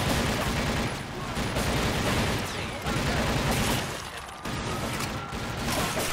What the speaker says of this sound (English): The machine gun's quite useful for sniping